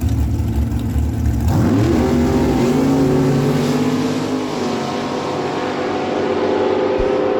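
A 2005 BW dragster with a 567 cubic inch big block Chevy engine roars loudly at a drag strip, its pitch rising sharply as it launches, then holding a sustained howl before fading.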